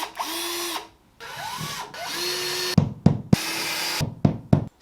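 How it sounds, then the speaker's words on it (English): A handheld power drill whines in several short bursts with brief pauses between them. Near the end come sharp knocks and thuds against the wall, all close and fairly loud. "I got my power drill."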